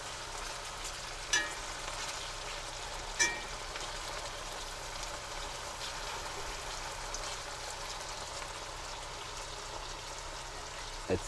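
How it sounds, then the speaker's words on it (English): Sausage and peppers sizzle steadily in a pan over high heat, a dense, even crackle and hiss with a couple of sharper pops, no talking. "It's sizzling. Can you hear it?"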